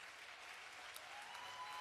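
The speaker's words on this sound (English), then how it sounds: "Give another round of applause." Faint, distant round of applause from the audience at an annual women's poetry slam as the first-place winner is named, a soft steady patter of many hands.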